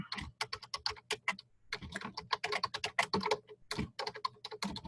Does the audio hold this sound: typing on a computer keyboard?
yes